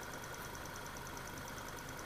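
A car engine idles with an uneven, knocking beat from a misfire as the fuel mixture runs very lean, with a faint steady ticking above the low rumble and no talk.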